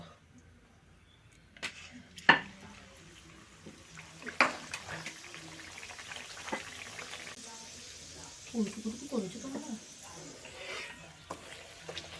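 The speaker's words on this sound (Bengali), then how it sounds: "তেল গরম হয়ে গেছে তেলে দিয়ে দেব" Pea kachori fry in hot oil in a pan, a faint sizzle and bubbling with scattered clinks and stirring knocks, fairly quiet and close, with a few brief bursts of activity.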